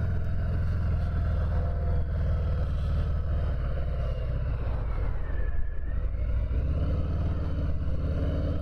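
A 2019 Harley-Davidson Softail Deluxe motorcycle riding, its low engine drone steady and close with a rise in pitch as it shifts and accelerates, wind noise over the top and no talking.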